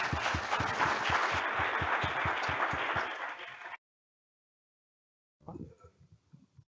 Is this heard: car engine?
no